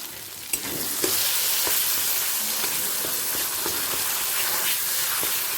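Raw banana peel paste drops into hot oil flavoured with a dried red chilli. A sharp splash at the start gives way to a loud, continuous, close sizzle that holds steady throughout.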